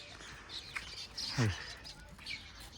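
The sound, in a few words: sparrows chirping in the morning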